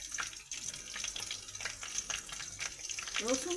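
Chopped garlic fries in hot oil in a pan while paneer chana masala is being cooked, a soft, steady close-up sizzle with faint stirring clatter and water-like hiss.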